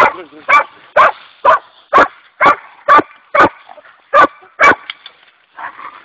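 A Srpski Trobojni Gonič hound barks in a steady series of about ten loud, close, evenly spaced barks, ending with a few softer yips and whines.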